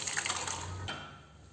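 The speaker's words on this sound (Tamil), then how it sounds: "இப்போ வந்து இந்த ராஜ்மா நம்ம வேக வச்சு வச்சுருக்குறோம் இல்லைங்களா, அதை இதே இந்த தண்ணியோடையே சேர்த்துக்கலாங்க." Cooked kidney beans poured together with their cooking water into a rajma gravy, a close, steady liquid pouring splash that cuts off near the end.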